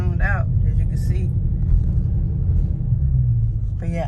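A car engine rumbles low and close as an SRT Mopar rolls away in second gear at a steady pace without braking, with a couple of brief voice-like sounds at the start and end.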